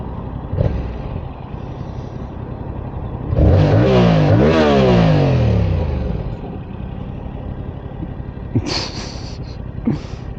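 A 2022 Yamaha R7 World GP 60th Anniversary motorcycle engine revs up and pulls while being ridden on the road, with a rising, sweeping roar over steady wind and road noise before it settles back to a cruise.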